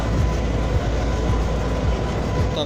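A coal train rolls through a railway station in Hyderabad, Sindh, its wheels clicking rhythmically over rail joints beneath a loud, continuous rumble.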